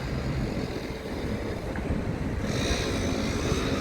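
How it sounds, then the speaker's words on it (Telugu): Overhead, an airplane gives a steady, even engine roar that stays loud and constant throughout, with no talking. "ఫ్లైట్ వెళ్తుంది"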